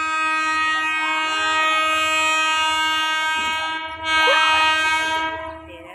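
Ordinary passenger train 234 at Thanon Chira Junction station in Thailand, a loud sustained horn-like tone with steady harmonic ringing over the rumble of the train, swelling near the end before easing off.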